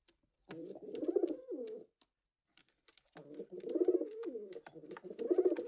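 Several throaty, burbling coos from pet pigeons at home, heard up close in two bursts separated by a brief silence, with light tapping clicks scattered around them.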